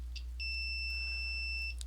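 A multimeter's continuity beeper sounds a single steady electronic tone lasting over a second, clear and close over low background hum, with faint short blips just before and after.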